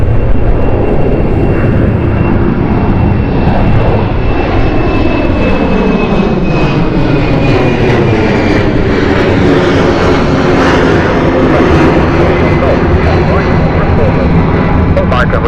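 A loud, steady aircraft engine roar at London City Airport, broadband and sustained for the whole stretch with a sweeping tone gliding downward as the plane passes, while a voice talks over it.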